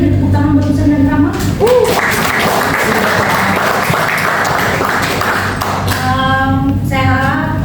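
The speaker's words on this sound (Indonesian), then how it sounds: "Sekali lagi tepuk tangan buat Ustaz dan Rama." An audience at a university lecture and certification session bursts into sustained, dense clapping for several seconds, with a speaking voice before and after it.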